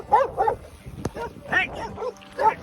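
Dog in New Mexico barking at a cyclist during the Tour Divide bike race, several sharp close barks and yips in quick bursts with a brief shout among them.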